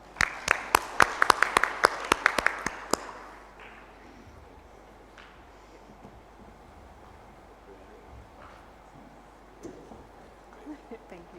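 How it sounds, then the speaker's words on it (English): An audience at a national alternative dispute resolution summit claps loudly for about three seconds, a burst of dense applause that quickly dies away into quiet room noise with a few scattered faint claps afterward. "So give yourself a round of applause"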